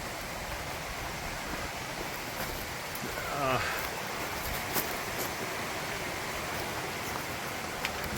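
Russian Creek, a small creek along the Rogue River trail, rushes steadily as broadband flowing-water noise that stays even and fairly faint throughout, with a brief louder swell near the middle.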